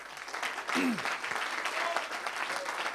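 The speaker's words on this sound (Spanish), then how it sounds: "fuerte el aplauso para Fernando Ariza" A crowd claps steadily and warmly throughout at a music composition contest awards, with a brief whistle or cheer rising above the applause.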